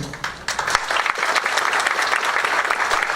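An audience at a lecture bursts into applause, a few scattered claps quickly swelling into dense, steady clapping from a roomful of people.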